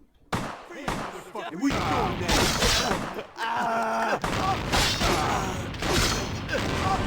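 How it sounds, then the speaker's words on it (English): Rapid shotgun blasts and clattering mechanical thumps fill a firefight in Vampire the Masquerade Bloodlines, a run of loud, close, quick reports layered over busy game sound. "this guy's like firing. That's the fastest I've ever seen someone fire a shotgun in this game"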